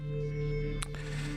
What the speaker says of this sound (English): So what you're hearing is actually being mostly sequenced or arpeggiated or whatever within Vital